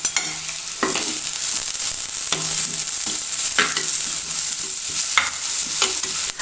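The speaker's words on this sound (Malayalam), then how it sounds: "അതിലേക്ക് ഞാൻ 2 സ്പൂണ് വെളിച്ചെണ്ണ ഒഴിച്ചിട്ടുണ്ട്. അതിലേക്ക് ഒരു സവാള അരിഞ്ഞത് ഇട്ട് കൊടുക്കാം." Chopped onion sizzles in coconut oil in a clay pot, a steady close frying hiss broken by repeated scraping stirs of a spoon against the pot, with no one talking.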